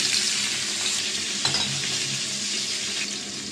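Nala fish fries in hot oil in a pan, a continuous close hiss and crackle with one small clink partway through and no talking.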